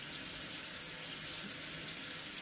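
Harmonica parts from a Seydel Symphony being rinsed under a running sink tap, a steady close hiss and splash of flowing water throughout with no talk.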